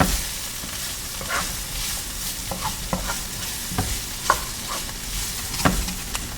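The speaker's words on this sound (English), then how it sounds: "Make one last good stir." Beef sizzles steadily in a hot pan for tacos while a utensil scrapes and stirs through it in irregular strokes.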